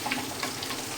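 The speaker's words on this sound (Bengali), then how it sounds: "এরকম করে নেড়ে দিতে থাকবো।" Capsicum frying in a pan while being stirred, giving a dense, steady crackling sizzle close by with no talk.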